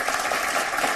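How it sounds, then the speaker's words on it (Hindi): Loud, dense applause from a crowd welcoming a poet on stage at a Hindi poetry gathering, an even, unbroken wash of clapping. "जोरदार तालियों से इस्तकबाल करें"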